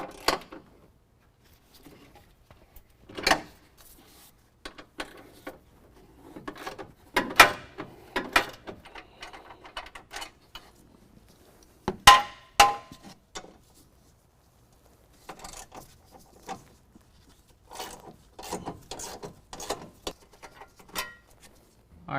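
Two 13mm bolts come off the front bumper of a 2015 Ford F-150: bursts of ratchet clicking and metallic tool clatter separated by quiet pauses, close and fairly soft.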